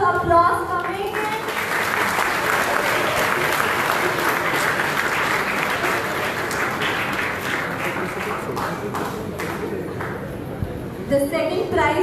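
A crowd at a cooking competition prize distribution gives sustained, dense, loud applause for about eleven seconds, with a few voices mixed in before it tapers off.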